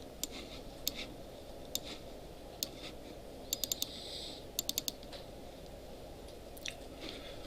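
Keys on a computer keyboard click in light, irregular bursts, some single taps and some quick clusters, heard faintly over a steady room hum during a web database lecture.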